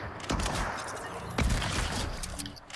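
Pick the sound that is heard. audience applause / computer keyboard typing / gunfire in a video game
gunfire in a video game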